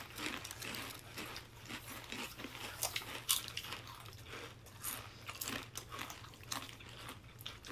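Zapp's kettle cooked potato chips are crunched up close, a dense run of crisp bites and chewing crackles over a low steady hum, with no talking.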